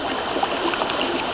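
Clean water poured into a prospecting pan at a river and dumped out, a brief continuous splashing rush, fairly close and steady.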